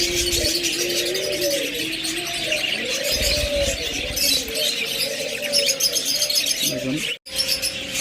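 Budgerigars chirp and warble busily nearby, a dense chatter of high twittering calls running continuously, with a brief dropout near the end.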